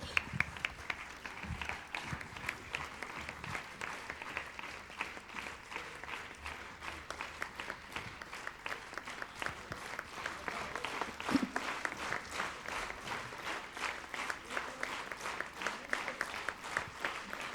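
Sustained audience applause at a music evening and awards night with a trophy presentation: a large crowd clapping steadily and evenly throughout, moderately distant.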